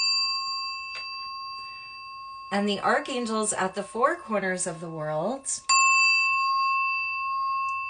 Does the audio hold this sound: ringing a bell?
yes